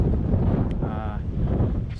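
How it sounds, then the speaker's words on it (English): Strong wind buffets the microphone with a heavy, rumbling roar that rises and falls in gusts. "as you can see, it's really windy"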